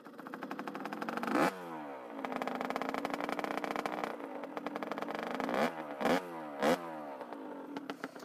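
A Yamaha DT 50 moped engine revving up close, a buzzy two-stroke rise and fall with several sharp blips and clattering bursts toward the end, heard alone without talk.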